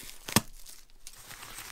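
A single crisp snip of scissors through a paper bag, with faint crinkling rustle afterward in a quiet room.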